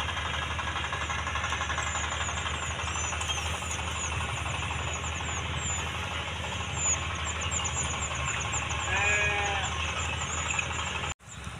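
Goats bleat several times in a rural pen in the late afternoon, short wavering calls over a steady low engine-like hum, ending with a sharp click.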